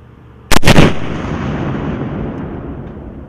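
An M3 Carl Gustaf recoilless rifle fires once with a sharp, very loud blast, followed by a long rumbling backblast and echo that slowly fades outdoors, with no talk.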